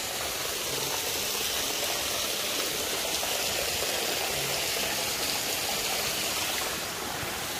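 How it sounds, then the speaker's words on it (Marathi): A small waterfall roars steadily and close, a constant rushing hiss of falling water with no pauses. "तो छोटा धबधबा"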